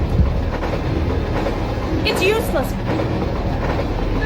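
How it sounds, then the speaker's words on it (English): Rumbling train moving with its brakes out in Resident Evil 3, a continuous low rolling clatter with scraping, squealing metal tones rising midway, while a person speaks briefly over it. "whenever there's a train moving and the brakes are out"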